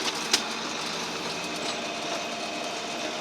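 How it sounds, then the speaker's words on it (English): A steady, moderately loud engine rumble from a John Deere 4640 tractor as it begins rolling in gear, with a brief clank near the start and constant mechanical drone throughout. "Release the clutch, the tractor will start rolling."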